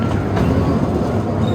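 Continuous rumble and rattle of a zoo train ride at a safari park in Phnom Penh, Cambodia, steady and fairly loud throughout, with faint clickety-clack and no talking.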